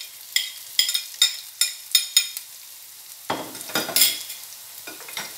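Finely chopped garlic fries in a pan while a spoon stirs it, giving a series of crisp scraping strokes in a quick rhythm and then a few louder sizzling sweeps, close with no voices.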